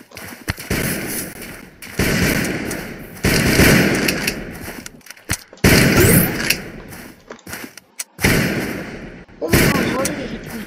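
Loud, repeated bursts of sniper gunfire and explosive blasts from the video game Zombs Royale, coming in dense clustered volleys with brief gaps between them, mixed with a player's voice talking over the action.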